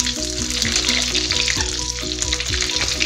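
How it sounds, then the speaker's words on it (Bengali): Lemons sizzle and crackle steadily in hot oil while being made into lemon pickle, a loud, close, continuous frying hiss with occasional stirring knocks and no talking. "তেলটা মোটামুটি গরম হয়ে এসেছে, আমি এখন লেবুগুলো তেলের মধ্যে দিয়ে দিচ্ছি।"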